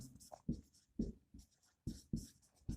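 Pen or marker scratching across a surface in a series of short, close strokes with brief pauses between them, no talking.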